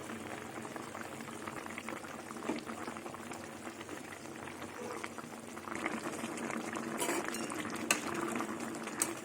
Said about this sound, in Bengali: ঝোল ফুটে গেছে এবার আমি ডিমগুলো দিয়ে দেবো